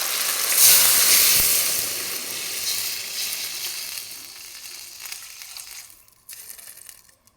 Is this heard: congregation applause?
no